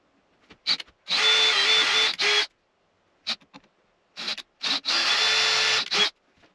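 Drilling a hole in wood for a parlor guitar neck: two long, steady power-drill runs, each preceded and followed by short bursts of the motor starting and stopping, close and loud with no talking.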